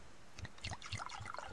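Collecting water in the survival game Subsistence: faint, soft drips and small liquid splashes in a loose irregular rhythm, quiet and close, with no talking.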